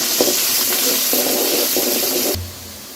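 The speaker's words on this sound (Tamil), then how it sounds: "கடுகு பொரிஞ்சிச்சு. வெங்காயம் போட்டுக்கிறேன்." Onions tipped into hot oil with spluttering mustard seeds, giving a loud, close, steady sizzle and hiss with stirring clinks that drops sharply near the end.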